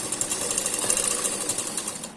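A sewing machine stitching a blouse during tailoring, running in a fast continuous mechanical chatter with even rhythm, close and fairly loud, with no voice over it.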